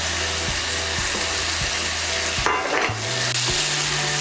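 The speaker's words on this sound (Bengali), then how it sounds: "দিয়ে দেবো ভেজে রাখা ফুলকপিগুলো" Fried cauliflower pieces are stirred into sizzling masala in a pan, a constant frying hiss with regular spatula knocks, then a brief louder clatter and scrape near the end.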